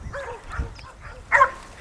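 Hunting dogs bay and yip at a large wild hog in the South Texas brush, a few short close barks and whimpers in quick succession with a sharper burst near the end.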